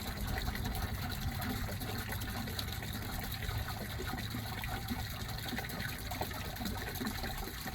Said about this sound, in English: All right, gallon of hot water.